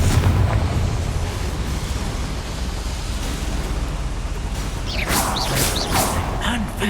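Confringo fire spell blast in the video game Hogwarts Legacy, a sustained roaring rumble of explosive noise that carries on for several seconds, with sharper bright crackling bursts appearing near the end.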